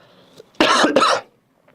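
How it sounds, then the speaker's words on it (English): A single short cough in two quick bursts, close and fairly loud, from a teacher during a maths lesson, set against an otherwise quiet room. "Sorry for my small coughs."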